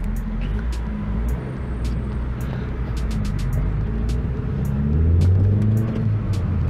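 Interior cabin sound of a Nissan Sentra B13 coupé on the move, with a steady low engine rumble and road noise, a rising engine tone near the end and a few sharp knocks or clicks.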